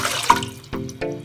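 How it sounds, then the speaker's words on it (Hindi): Water poured into a pressure cooker set on a stove over medium flame while cooking aloo gosht, about one glass's worth: a short close splashing rush with a few louder splashes, no talking. "पानी डालेंगे 1 गिलास"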